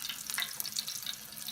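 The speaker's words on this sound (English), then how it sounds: "I'm going to start frying" Chicken-fried steak crackles and sizzles in hot oil on a gas stove, a steady close frying hiss with quick pops and no voices.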